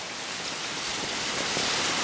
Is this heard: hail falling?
yes